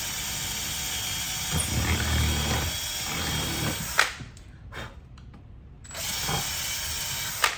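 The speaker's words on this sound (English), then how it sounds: "we're gonna get our trusty drill back out, and we're gonna drill all of these holes" A power drill whirs steadily drilling holes in a goalie hockey stick holder, pauses briefly with a few clicks and knocks, then starts running again.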